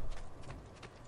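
Horse hooves clip-clop briefly in Assassin's Creed II, a quick run of soft muffled hoofbeats at moderate distance with no talk over them.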